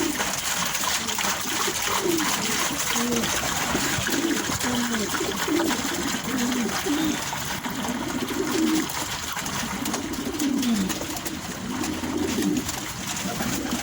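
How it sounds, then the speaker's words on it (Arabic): Pigeons coo repeatedly in low, rolling calls while drinking water from a feeder bottle, with the cooing overlapping close by over a constant background hiss and faint trickling. "والحمام هيبدا ايه، هيشرب ايه منه غصب عنه، لازم هيشرب اهو"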